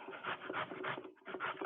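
Vegetables for veggie fritters rasp against a hand grater in quick rhythmic back-and-forth strokes, close and fairly quiet, with a brief pause before the scraping resumes.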